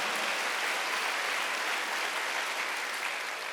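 A church congregation at a Korean sermon breaks into sustained applause, a dense, even wash of clapping that holds steady for a few seconds with no voices over it.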